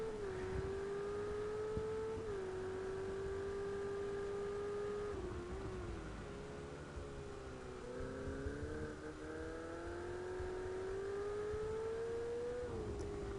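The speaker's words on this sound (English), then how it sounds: "Why don't we ride on board with a Ferrari?" Onboard engine of a Ferrari race car in Project Cars 2 at Algarve, a loud, steady high-revving drone held close throughout, with brief dips and shifts in pitch around gear changes.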